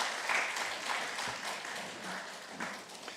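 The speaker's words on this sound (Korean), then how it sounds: "다 같이 박수하시겠습니다" A church congregation at a Wednesday worship service claps together, a soft, distant wash of many hands that stays even for a few seconds without speech.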